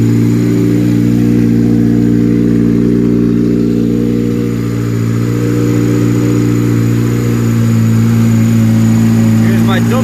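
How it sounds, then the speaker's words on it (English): An Acura RSX engine with a K20/K24 setup and stock camshafts idles steadily while warming up at close range, a low constant rumble with a slight shift in pitch partway through, running on alone. "I'm just gonna let the car fully warm up"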